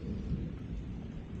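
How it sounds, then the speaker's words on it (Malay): Steady heavy rain with a deep low rumble of thunder, continuous and fairly loud, no voices. "cuaca sini hujan"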